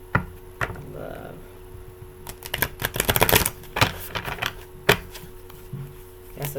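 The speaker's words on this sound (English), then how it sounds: "That's a good shuffle right there." Tarot cards being shuffled, a sequence of crisp riffling clicks and taps that builds to a dense flurry before trailing off into scattered snaps.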